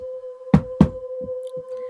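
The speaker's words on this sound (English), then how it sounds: "a loud and repeating banging in the bedroom door" Two loud, close knocks strike a bedroom door in quick succession, followed by softer thuds, all set over a steady low hum.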